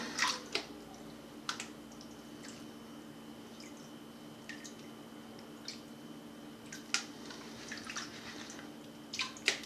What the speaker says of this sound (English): Let the water pull out the material.